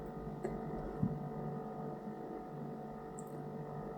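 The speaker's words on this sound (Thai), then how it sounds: "เสียงตู้เย็นดังเลย" A household refrigerator gives off a steady, low electrical hum that stays constant throughout, with a few faint knocks and no voices.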